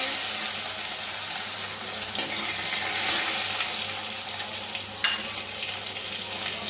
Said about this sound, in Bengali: মাছের তেল দিয়ে বেগুন আর আলু দিয়ে করব বা বেগুন ভেজে নিচ্ছি